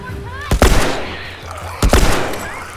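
Gunshots in The Last of Us, two loud close blasts about a second and a half apart, each a quick double crack with a short rumbling tail, over steady game ambience and music.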